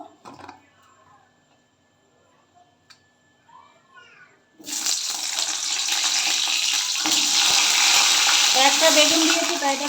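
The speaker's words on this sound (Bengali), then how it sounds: "প্রথমে আমি বেগুনগুলো ভেজে নেবো" Brinjal (eggplant) dropping into hot oil: after a quiet stretch of faint kitchen clatter, a loud, sudden sizzle bursts in and keeps frying steadily, close and continuous.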